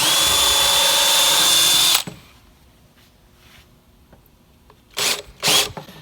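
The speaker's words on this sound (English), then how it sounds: "Now I'm going to come in through with the countersink," A power drill with a countersink bit bores into a workpiece during final assembly, whirring loudly for two seconds and then stopping; after a quiet pause, two short bursts of the drill follow close up.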